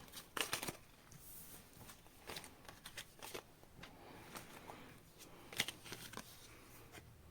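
A deck of tarot cards shuffled by hand at close range: soft, papery riffles and light slaps come in irregular bursts with short pauses between them, quiet and unaccompanied by any talking.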